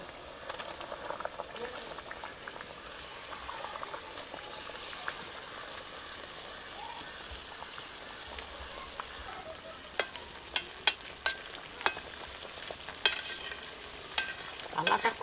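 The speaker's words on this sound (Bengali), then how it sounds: "এবার যে ফুলকপি আলু দিয়ে দেবো।" Cauliflower and potato frying in a kadai while being stirred, a continuous close sizzle with utensil scrapes and clatters that grow more frequent toward the end.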